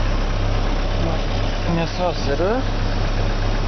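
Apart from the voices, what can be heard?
Opel car engine idling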